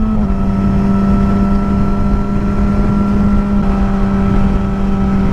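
A Yamaha R6 motorcycle engine idles with a loud, steady droning hum close to the microphone, with a faint irregular popping underneath.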